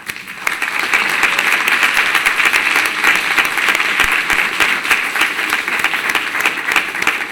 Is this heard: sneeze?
no